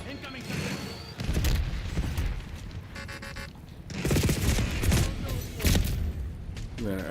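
Sharp explosive bursts and rapid gunfire in Call of Duty Black Ops 6 multiplayer, with a Semtex grenade detonating amid the fight, loud and close, while players talk over the chaotic combat.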